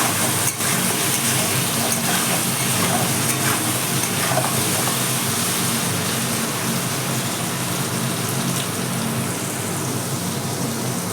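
Potatoes frying in a pan with salt and turmeric, being stirred for aloo posto: a steady, dense sizzle with soft scraping strokes running throughout at close range, no talk.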